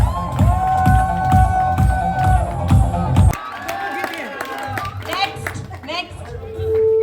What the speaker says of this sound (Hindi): जो हार गए वो भी तालियां बजाओ।